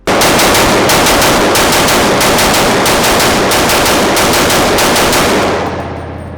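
An AR pistol on its highest gas setting fires a rapid string of shots, about a dozen loud, close cracks in quick succession. The final report's echo fades away.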